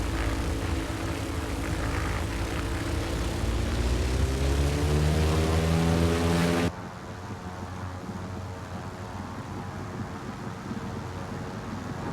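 A small propeller airplane accelerates down the runway at full throttle and lifts off, engine drone rising steadily in pitch, then continuing as a loud, steady climbing roar.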